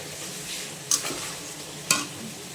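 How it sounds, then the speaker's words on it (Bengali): Banana koftas going into a simmering curry, with a continuous low bubbling hiss broken by two brief, sharper splashes as pieces drop in, close and fairly quiet. "মা এখন দিয়ে দিচ্ছে কলার কোপ্তাগুলো"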